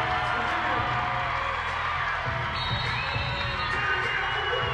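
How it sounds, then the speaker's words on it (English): Fans in an arena at an East Carolina vs Cincinnati women's college basketball game cheer loudly and continuously, a sustained roar with whoops and shouts rising from the stands. "here comes the crowd"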